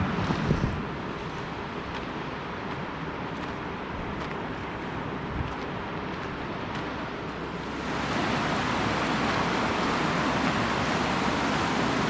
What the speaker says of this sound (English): this is the river which looks so pristine, so beautiful, with the gargling sound of its cool turquoise colored mirror like water